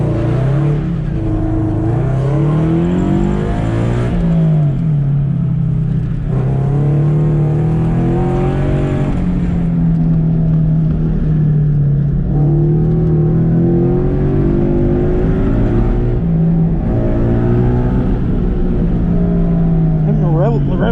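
A Scion FR-S engine revs hard at an autocross event, a loud sustained drone climbing and falling in pitch as it bangs against the rev limiter, heard from close by with voices talking over it.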